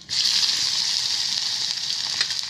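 Ginger paste hitting hot oil with whole spices, bay leaf and turmeric while cooking a cauliflower and potato curry, giving a loud, even sizzling hiss that holds steady throughout, with no one speaking.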